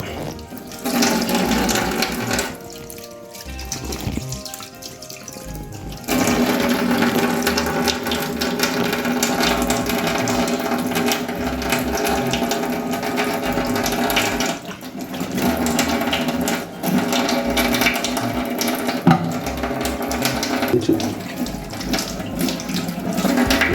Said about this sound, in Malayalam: കഴുകി വൃത്തിയാക്കിയെടുക്കാം.